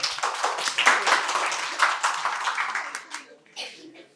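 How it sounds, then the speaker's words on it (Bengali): Audience applause for a contestant at a quiz competition at Santiniketan Medical College and Hospital: a dense burst of many hands clapping that rises, holds, and then thins into scattered claps as it fades. "সানিয়ার জন্য আবার জোরে হাততালি হয়ে যায়"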